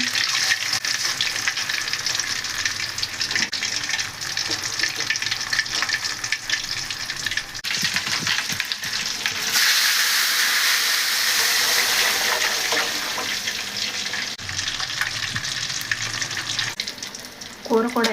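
Fish deep frying in a pan of hot oil: a loud, dense, continuous bubbling sizzle with occasional stirring clatter, swelling briefly louder midway, close-up with no speech.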